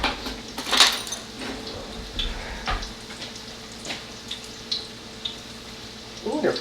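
Food frying in a pan on low heat, a soft steady sizzle with scattered clinks of utensils against the pan, fairly quiet and close.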